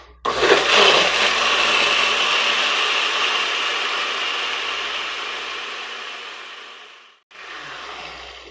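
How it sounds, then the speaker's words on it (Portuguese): A kitchen blender whirs loudly and steadily, mixing cake batter with roasted peanuts, then briefly stops and restarts for a short final burst. "Agora é só tampar o liquidificador e bater bem."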